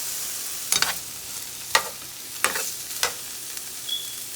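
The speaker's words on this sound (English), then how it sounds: "And it's just sauteing up." Chicken and broccoli sauteing in a pan on the lower-fat side, heard as a soft background sizzle broken by four or five sharp scraping stirs of a utensil, spaced about a second apart; no talking.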